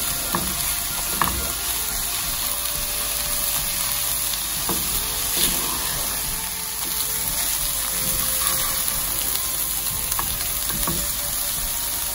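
Rice being stirred into sauce for fish garlic rice, a steady close sizzle and frying hiss throughout with occasional scrapes of stirring, no speech.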